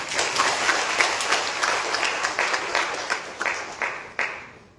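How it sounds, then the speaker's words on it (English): Audience at an academic conference plenary session gives the panelists a round of applause, a steady burst of clapping that thins out into a few scattered, separate claps near the end. "Let us show our appreciation to our distinguished panelists with a round of applause again."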